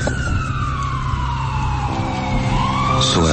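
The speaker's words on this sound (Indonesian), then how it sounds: "Suara sirine ambulans terdengar sangat jelas di telingaku, memecah kesunyian jalan" A loud wailing ambulance siren sweeps up and down continuously, close by and alone with no talk.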